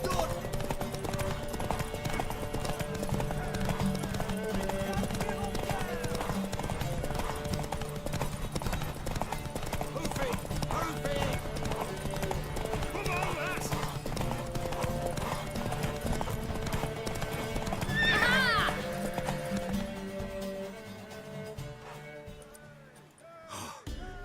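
Steady clip-clop of a mare's hooves in The Witcher 3: Wild Hunt runs under a dense game soundtrack, with a brief whinny near the end before the sound drops away.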